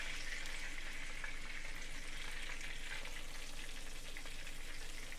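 Strips of Texas-style chicken fried steak fry in a skillet, giving a steady, close crackling sizzle with dense popping oil spatter that stays constant throughout, no voices.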